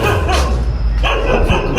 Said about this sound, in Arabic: ما تلاقي صوت الكلاب يا عم